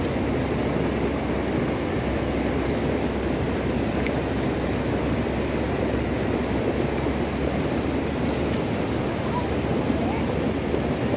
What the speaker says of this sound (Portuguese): Passando bastante água ainda, olha.